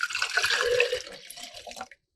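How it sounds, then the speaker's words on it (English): Liquid poured from a jar while making a turmeric ginger drink, a short splashing gush that tapers into a few drips before stopping, close and without talk. "So I'm just pouring this jar here."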